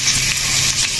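Dried chili and onion frying in hot mustard oil for a beef kala bhuna, a steady close sizzle with no talking.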